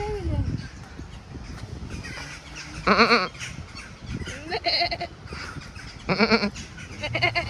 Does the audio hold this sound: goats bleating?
yes